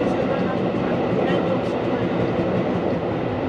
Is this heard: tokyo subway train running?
yes